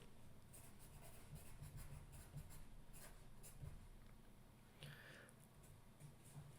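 A pen scratches across paper as notes are jotted during a solo tabletop RPG session, a quiet, close, continuous scribble with small bursts of strokes and no speech.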